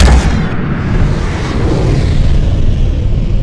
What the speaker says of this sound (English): it is so exciting to watch the rocket launch on TV